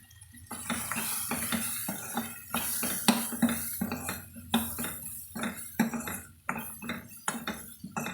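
Tomato and coconut sautéed in a pan with repeated, rhythmic stirring strokes, a spoon scraping and clinking against metal over a steady low sizzle, close and moderately loud.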